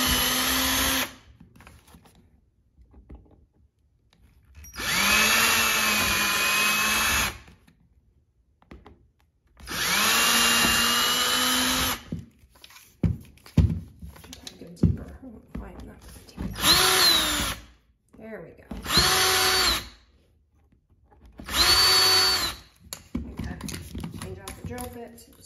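An electric drill drilling a pilot hole for a doorstop runs in repeated bursts, several long whines then shorter ones, loud and close with brief pauses and some clatter between.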